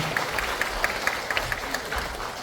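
Audience applause at a district office commemorative lecture, a dense, steady wash of many hands clapping at moderate distance with no speech over it.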